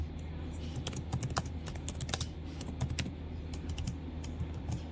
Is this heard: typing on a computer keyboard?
yes